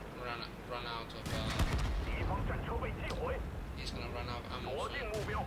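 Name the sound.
tank gunfire from World of Tanks Type-64, video game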